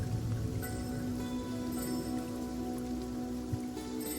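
Steady rain falls as a continuous, even wash of sound with no breaks, a soft ambient downpour on a surface and no voices.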